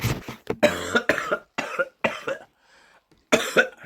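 Someone coughs hard in repeated bursts, a rough fit of coughing that pauses briefly before one more cough.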